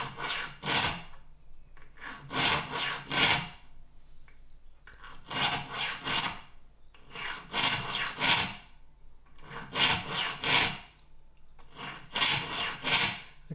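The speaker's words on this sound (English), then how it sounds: "as I'm sharpening, I'm applying downward pressure, but also a little bit of pressure in that direction" A file sharpens hand saw teeth, close, crisp rasping strokes in pairs and triplets with short pauses between groups, repeating steadily and heard alone.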